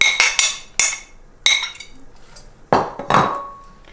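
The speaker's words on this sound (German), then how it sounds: "ich werde jetzt die Schalen hier in den Topf rein tun" Apple peels dropped into a metal cooking pot in a home kitchen, giving several sharp clinks and clatters in irregular bursts, close and fairly loud, with short pauses between them.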